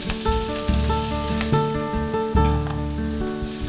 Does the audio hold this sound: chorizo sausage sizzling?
yes